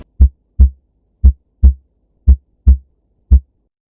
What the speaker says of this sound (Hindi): इसी खामोश स्पेस में अचानक एक बराबर सी धड़कन सुनाई देती है।